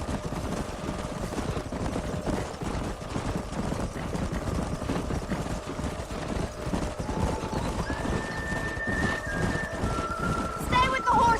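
Horses in a Western video game neigh and clop their hooves steadily, with a whinny standing out near the end, under game dialogue and ambient wind.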